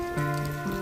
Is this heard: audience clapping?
no